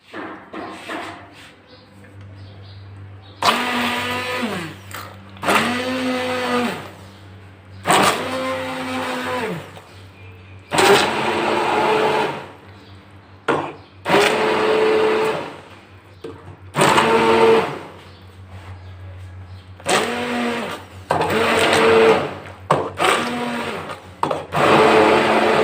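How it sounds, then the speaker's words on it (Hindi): An electric kitchen blender pulses in repeated bursts of about a second or two each, grinding cooked tomatoes and onions, with a low steady hum between bursts and the motor pitch rising as each run spins up. "अब इनको ब्लेंडर में पीस लेना है।"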